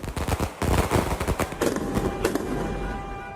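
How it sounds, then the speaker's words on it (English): Fireworks mark Pelé's homecoming as his hearse passes, a rapid crackling run of sharp bangs and pops at irregular intervals, loud and close at first, then thinning into a lower steady roar of crowd noise. "Fireworks to celebrate a great life and to mark his homecoming."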